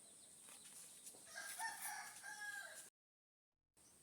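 A rooster crows faintly in the distance, a drawn-out call over quiet background hiss, ending abruptly in silence.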